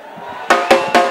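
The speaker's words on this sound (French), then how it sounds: "Acclamation." A church festival crowd cheering in acclamation, three loud bursts of shouting and applause-like roar rising one after another over a steady background hum.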